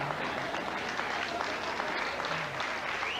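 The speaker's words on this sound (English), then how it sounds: "A lot of clapping." A crowd at a live comedy show claps continuously and fairly loudly, a dense, even wash of hand claps with faint voices underneath.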